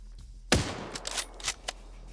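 Gunfire in the war game High Kommand: one loud, sharp shot after a quiet start, then several lighter cracks spaced irregularly over the next second or so against a low background hum.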